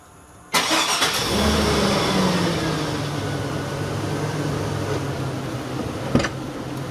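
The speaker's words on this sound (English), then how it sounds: "Remote start." A 1999-2002 Chevrolet Silverado engine fires up by remote start with a sudden loud catch, then settles into a steady, close idle that drones on alone.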